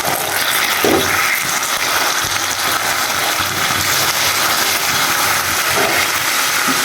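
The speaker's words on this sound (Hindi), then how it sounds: "अब इसमें डालेंगे हम पानी" About half a cup of water is poured into a pot of kheer, a milk and rice pudding, giving a steady rushing hiss that runs unbroken and fairly loud throughout, with no talking.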